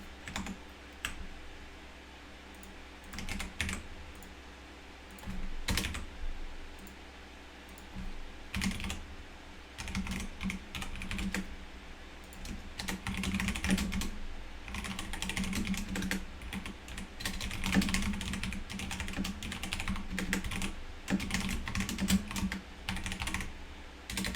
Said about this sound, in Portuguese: O meu teclado incomoda vocês? Ou vocês estão de boa escutando o barulho dele?